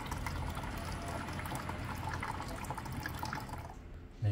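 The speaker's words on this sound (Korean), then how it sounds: "어쨌든 이 물이 다 나올 때까지 기다려 주시면 됩니다" Water pouring steadily from an LG Atom water purifier during a reset cycle, a continuous trickling flow that stops abruptly near the end.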